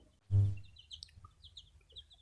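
A single loud cluck from a nearby desi hen, followed by soft chirps and faint peeping from other birds in a quiet space.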